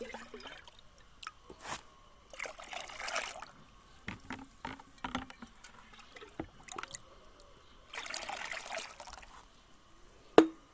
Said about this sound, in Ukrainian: Доливаємо, щоб було відро повне 10 літрів.